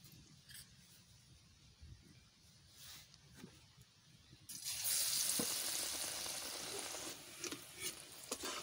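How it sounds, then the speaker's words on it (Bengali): Egg stick kebabs go into hot oil for deep-frying. A quiet stretch gives way to a sudden loud, steady sizzle with small pops, heard close up. "এইবারটা আমি এক এক করে তেলে ভেজে দেব।"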